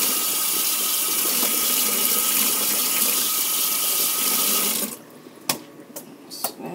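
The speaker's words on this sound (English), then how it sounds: "I'm rinsing this, and this is probably one of my more difficult brushes to clean too" Tap water runs steadily into a sink as a makeup brush is rinsed, a continuous hiss and splash that stops abruptly, followed by a few sharp clicks and knocks.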